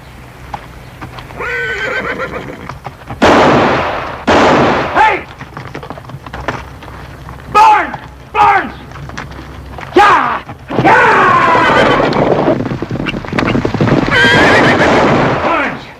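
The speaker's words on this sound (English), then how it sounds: "He's stampeding our horses." Horses stampede in a Western setting, with loud, close neighs and whinnies breaking out repeatedly over rumbling, clattering hooves that build into a dense, continuous burst near the end.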